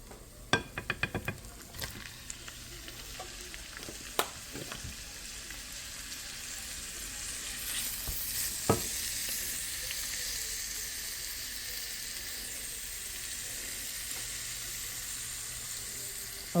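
About 200 grams of minced meat frying with fried onion in a pan: a few quick clatters and taps at first, then a soft, steady sizzling hiss that stays faint and even.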